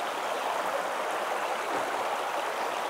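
A creek in Tasmania rushing steadily past a boardwalk, a dense, even wash of flowing water heard close and alone with no voices.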